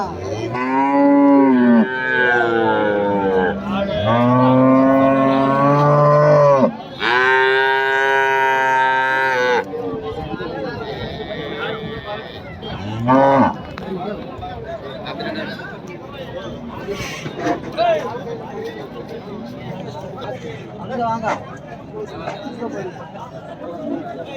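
Cattle at a dairy cow market moo loudly and close, several long drawn-out calls in the first ten seconds, followed by chatter and crowd babble with livestock noise in the background.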